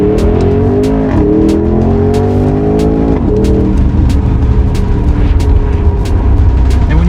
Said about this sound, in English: you've got a twin turbocharged 4-litre V8 that puts out 338 kilowatts and 620 newton meters of torque